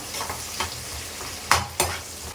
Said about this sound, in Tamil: இந்த வெங்காயத்தை நல்லா நம்ம வதக்கணும்